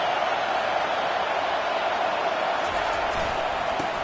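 College football stadium crowd at Auburn, a steady dense roar filling the space, loud and continuous under a commentator's voice.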